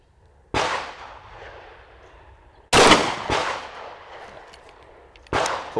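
Four pistol shots fitted with a Trijicon RMR sight ring out at an outdoor range, loud, close, sharp cracks with echoing decays, spaced unevenly, two close together in the middle.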